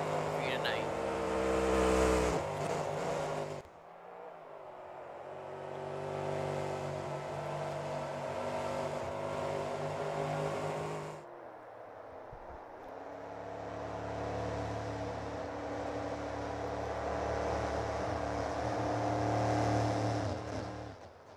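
Racing trucks roll onto the field at an evening truck racing event, their engines rumbling and revving loudly in surging waves, with a loudspeaker announcer talking over them.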